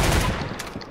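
Rapid gunfire crackles in the Roblox game Arsenal as a dense, loud burst of shots that fades slightly within a second.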